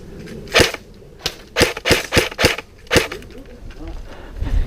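A Thompson submachine airsoft gun fires in a close-quarters outdoor game, sharp snapping shots in an irregular burst of about seven, loud and near, with faint voices and movement between them.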